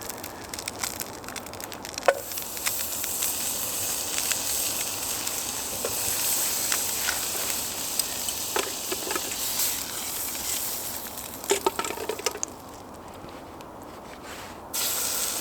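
Meatballs frying in butter on a Trangia camping stove, a steady soft sizzle running throughout with scattered sharp crackles and pops, fairly close, no talk.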